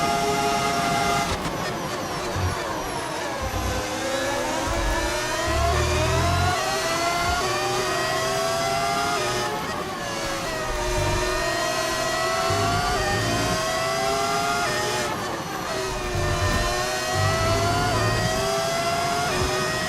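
An F1 race car engine in the F1 25 video game, running down a straight while the car struggles for speed, wails loud and continuous, its pitch climbing and dropping again through repeated gear changes.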